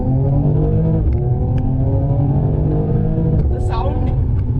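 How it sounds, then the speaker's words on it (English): A Mercedes E53 AMG engine drones steadily with rising harmonic tones as it accelerates hard, loud and close throughout, with a brief higher whine near the end. "This car accelerates out of the blue, and just pushes you into the horizon."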